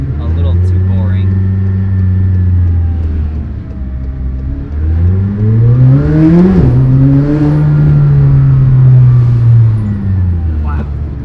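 A full-carbon McLaren Senna engine rises and falls through several revs while driving, loud and close inside the cabin, building to a strong climb in the middle before settling into a steady drone.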